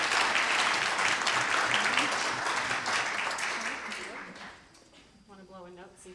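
Audience applause for children performing at a high school Christmas show, a dense, loud wash of clapping that fades after about four seconds as a voice begins talking.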